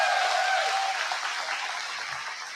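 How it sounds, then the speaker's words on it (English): Applause from a crowd in an overflow room at a political town hall, a dense wash of clapping that starts loud and slowly thins and fades out. "give them a little round of applause for"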